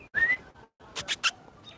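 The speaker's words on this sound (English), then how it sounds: "Oh, there's a bird." A bird in a Canadian backyard garden gives a few quick, high chirps, short and fairly close, with brief quiet gaps between them.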